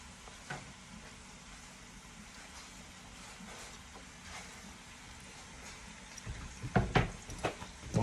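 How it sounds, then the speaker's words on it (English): Potatoes, squash, onions and sausage fry in a full skillet, with a quiet steady sizzle under scattered stirring clinks that grow louder and more frequent toward the end. "You're just gonna continuously stir this all around, so that way everything gets good and greased up and starts to cook through."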